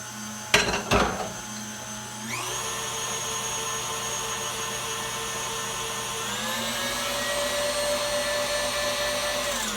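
An electric hand mixer beats pound cake batter in a home kitchen: a few sharp clatters, then a steady whirring drone that jumps to a higher pitch partway through and holds, loud and close, with no talking.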